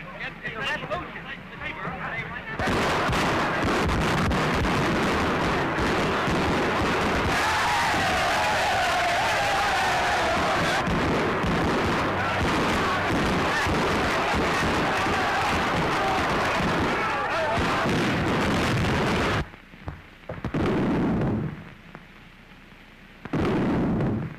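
Battle noise of gunfire and artillery from fighting in a film scene near a palace, a long sustained loud roar of blasts and bursts over about fifteen seconds that cuts off abruptly, followed by quieter moments.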